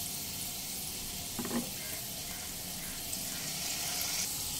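Prawns frying in oil in a pan over medium heat, a steady soft sizzling hiss throughout with a couple of faint brief clinks, no talking.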